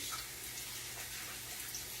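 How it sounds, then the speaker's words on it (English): Hands being washed under a running tap in a home kitchen while salmon croquettes are being made, a steady close rush of water with no voices. "Let me wash my hands off."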